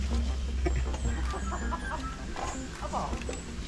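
Chickens cluck in short repeated bursts at close range over a steady low background rumble, mixed with faint scattered chatter.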